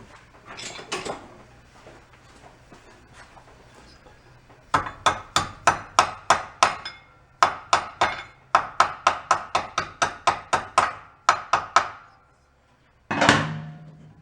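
A hammer taps a flywheel onto a blown-apart riding mower engine: a quiet start with light knocks, then a steady run of sharp metallic taps in quick rhythmic groups, close and loud, ending with a scrape.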